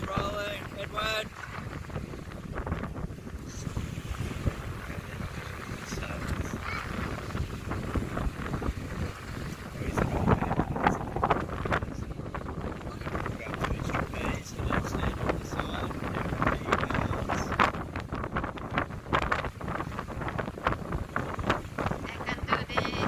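Strong wind buffets the microphone on a beach with sailboats out on the water, a steady roar through the whole stretch that grows louder around the middle, with voices faintly mixed in.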